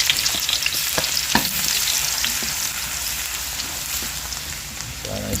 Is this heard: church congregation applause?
no